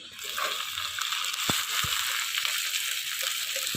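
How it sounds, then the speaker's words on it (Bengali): Onion and green chillies fry in hot oil in a wok, giving a continuous bright hiss with a couple of short knocks from a spatula. "পেঁয়াজ আর কাঁচা লঙ্কা দিয়ে দিলাম"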